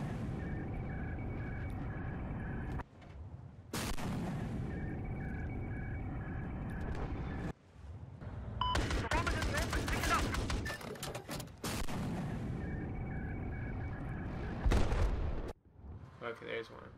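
Gunfire from an assault boat in Battlefield 4, a dense rattling burst in the middle over a steady engine hum, with the boat's drone running before and after and a player speaking at times.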